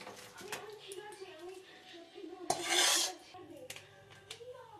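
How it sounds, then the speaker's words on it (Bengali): Marinated meat is poured into a pot of hot ghee for kacchi biryani, giving a sudden loud hiss and sizzle burst that lasts under a second. Kitchen rubbing and clatter come before and after it, and a person talks in the background. "এই ম্যারিনেট করা মাংসটা এখানে ঢেলে দিলাম।"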